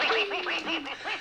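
A cartoon goose gives a short, nasal honking call with a few rising and falling quacky notes, loud and close, heard alone over a faint background hum.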